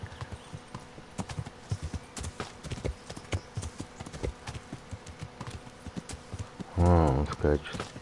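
Horse hooves clip-clop in steady, rapid beats as the horse gallops in the video game Kingdom Come: Deliverance. Near the end a loud, close whinny breaks in over the hoofbeats.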